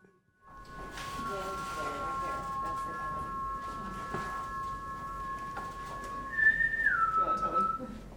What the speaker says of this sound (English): try to get your whistle as periodic as possible